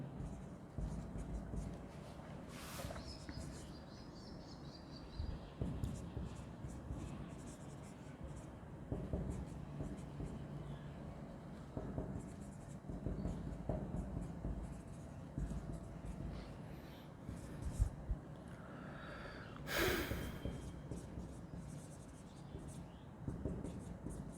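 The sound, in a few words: writing on paper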